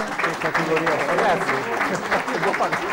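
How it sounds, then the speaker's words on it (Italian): A crowd gives a short burst of applause for a group of young football players, with dense clapping under a voice speaking over it. "Facciamogli un applauso."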